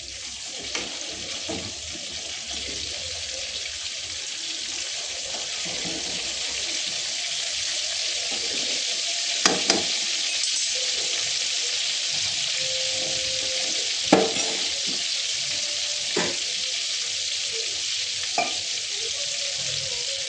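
Fish frying in a pan for a home-cooked fish meal, a continuous hiss of oil close up with a few sharp clinks and knocks of a utensil scattered through, no talking.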